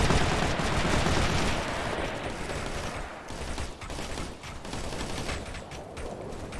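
Dense, continuous gunfire from Operation Flashpoint: Red River, overlapping bursts and rapid shots forming a loud fusillade that eases slightly midway, then carries on without voices.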